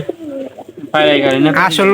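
A pigeon coos close by, a soft low warble at first swelling into a loud, drawn-out throaty coo that carries on to the end.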